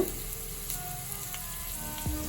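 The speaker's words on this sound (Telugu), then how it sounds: "ఇప్పుడు వచ్చేసి నేను కరివేపాకు వేసుకుంటున్నాను, ఒక రెమ్మ." A sprig of curry leaves sizzling in hot oil for an uggani tiffin, a continuous close frying hiss with light crackles throughout.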